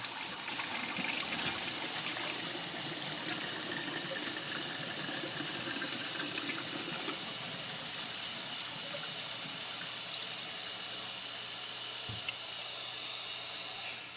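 A toilet is flushed to clear a stoppage, giving a steady, rushing gush of water that runs close and continuous throughout, with no talk over it.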